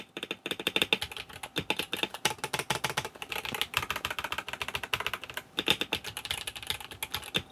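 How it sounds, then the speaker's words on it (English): Rapid clacking of an Akko 5075B wireless mechanical keyboard being typed on, a fast irregular stream of crisp keystrokes with brief pauses, close up and without talk. "I hope you can hear there that the sound of this and the quality of this keyboard"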